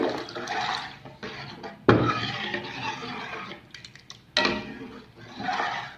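Water is poured into a pot of hotel-style tiffin sambar in bursts, splashing and gurgling with brief pauses between pours and a few light clinks of the vessel.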